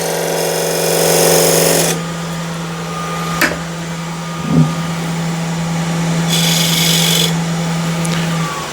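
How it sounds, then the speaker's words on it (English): A steady wood lathe hum runs throughout while bright scraping bursts of a thin parting tool deepening a groove in wood rise at the start and again near the end, with a couple of sharp knocks between. "I'll just deepen the groove here a little bit with thin parting tool."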